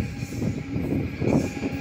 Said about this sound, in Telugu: మీకు ఇక్కడ ఒక గూడ్స్ ట్రైన్ పాస్ అవుతుంది